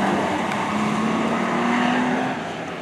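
A motor gymkhana car in the BM1 class pulls away on its timed run at the New Chitose JAF Cup event. A loud, close engine roar holds a rising tone and then drops off as the car moves away.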